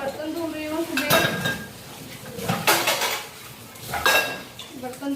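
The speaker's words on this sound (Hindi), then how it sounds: "मैं अभी बर्तन धो रही हूँ" Dishes being washed by hand: pots and cutlery clink and clatter in a few separate bursts over running water and handling noise, fairly close, with no voices.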